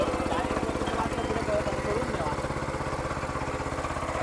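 A farm tractor engine runs with a steady, rhythmic low chugging at moderate volume throughout while people talk nearby.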